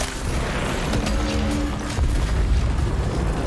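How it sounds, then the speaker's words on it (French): BFG shot and explosion in Doom Eternal, a loud sustained booming roar of blast and rumbling debris that fills the whole stretch without letting up, with no talk. "C'est surtout que j'ai tiré au BFG."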